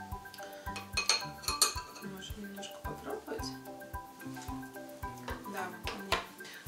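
Korean-style beetroot salad is tossed in a bowl, giving repeated clinks and scrapes of utensil against dish in an uneven rhythm, fairly close and moderately quiet.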